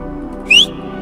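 A single rising whistle in the Roblox horror game Apeirophobia, brief and clear, sliding upward over a steady low background hum.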